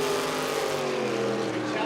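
A PSP Racing jet sprint boat with a Sprint Tech hull and a Magnum Automotive Group A engine runs at a Whanganui jetsprint race meeting, giving a steady, loud engine roar with a voice audible over it.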